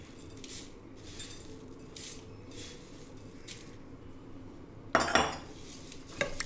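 Puffed rice and spices for bhel puri being tossed in a bowl, with quick rhythmic scraping and rustling strokes and a louder clattering burst of utensil against bowl near the end.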